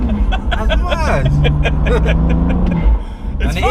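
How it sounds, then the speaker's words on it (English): BMW M2 Competition fitted with an Eventuri intake, its engine droning loud and close from inside the car with rising whooshing turbo spool and intake sounds, while occupants talk over it. "I can get some extra sounds coming out of the intake"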